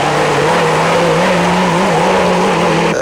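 A turbocharged Toyota Hilux rally car at the 1991 Settler 500 drives past with a loud, sustained engine note that wavers slightly in pitch over a few seconds.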